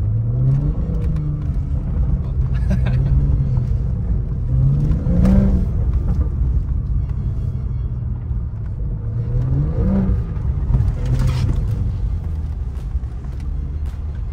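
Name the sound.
BMW car accelerating on a frozen lake track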